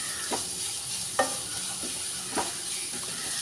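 Onions and green chilies stir-fry in a pan for Kerala toddy shop style beef fry, a constant close sizzle broken by three spaced scrapes of a spatula stirring.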